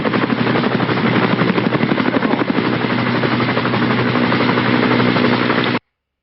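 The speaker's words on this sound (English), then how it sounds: "You can turn the volume down on the audio for the helicopter so it's not so loud" Helicopter sound effect used in a video edit: a loud, continuous rotor chop with steady rapid beating and engine whine, cutting off abruptly near the end.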